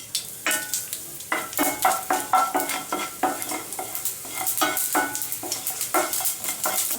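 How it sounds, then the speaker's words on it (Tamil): Mustard seeds, urad dal and dried chillies in hot oil, heard as a steady sizzle with a busy run of rapid stirring and scraping clatter from a utensil against the pan, close and with no talking. "எண்ணெய் ஹீட் ஆனதும் இதில் எடுத்து வச்சுருக்கிற கடுகு உளுத்தம் பருப்பு, அப்புறம் காஞ்ச மிளகாய் அரைச்சி வச்சுருக்கேன்"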